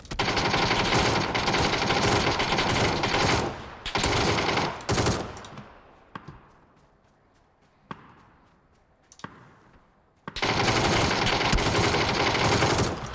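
Gunfire in the video game PUBG Battlegrounds: loud sustained bursts of automatic fire open and close the clip, with a few sharp isolated shots echoing in the quieter middle stretch.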